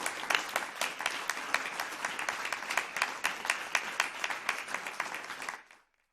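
A room full of people at a Poway school board of education meeting applauds steadily with dense, even clapping for about five and a half seconds, then it quickly fades out to silence.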